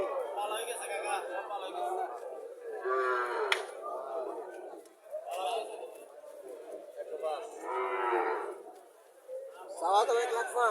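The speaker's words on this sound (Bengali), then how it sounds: "এটা অরিজিনাল সাইওয়াল, অরিজিনাল সাইওয়াল জাতের বাছুর।" A Sahiwal breed calf at a cattle market gives several loud, drawn-out moos that come close and repeat, amid steady market chatter and people talking throughout.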